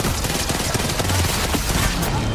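RE-45 pistol fire in Apex Legends during a tournament match, as a dense, loud, continuous clatter of rapid shots and crackling impacts with faint voices mixed underneath.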